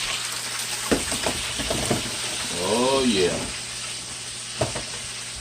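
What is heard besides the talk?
bacon wrapped cheesesteak meatloaf sizzling hot out of the oven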